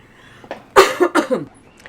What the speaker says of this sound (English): gee, I hate this cough.